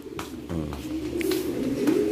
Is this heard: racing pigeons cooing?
yes